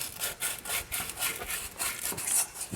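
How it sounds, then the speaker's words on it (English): Sandpaper is scrubbed by hand around a transmission bore to clear rust and a raised lip. Close, rhythmic rasping strokes repeat steadily, with no talking. "I'm gonna clean this bore a little bit. Some sandpaper first."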